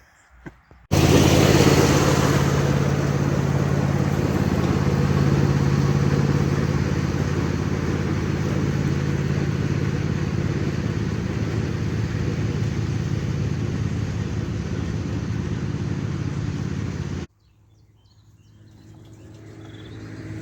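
A small lawn tractor engine runs steadily at a loud, constant level with a low hum, then cuts off abruptly near the end, leaving quieter background noise.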